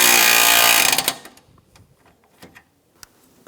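A power tool tightens bolts on a Toyota Prius radiator in one brief whirring burst, followed by faint clicks and light handling noises.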